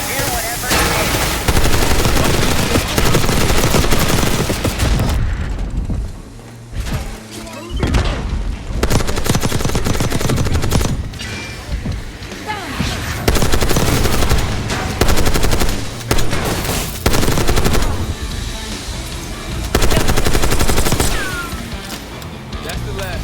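Minigun fire in Call of Duty: Black Ops 6, with loud, continuous, rapid streams of shots in long bursts separated by short lulls, mixed with booms and battle noise and voices talking over it.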